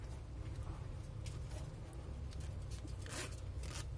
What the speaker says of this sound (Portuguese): eu abro o zíper